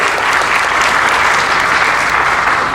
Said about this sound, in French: Merci beaucoup Catherine, on peut l'applaudir.